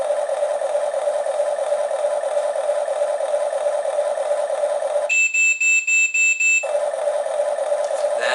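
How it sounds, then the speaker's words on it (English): A Huina 1550 15-channel RC excavator gives a steady electronic hum, interrupted by a quick series of about six high-pitched beeps as it binds to its controller, then the hum resumes. "It makes a little beeping noise."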